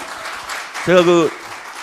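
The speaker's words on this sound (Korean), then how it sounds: "큰 박수 부탁드리겠습니다" Steady applause from an audience at a live public broadcast event, with one voice briefly rising above the clapping in the middle.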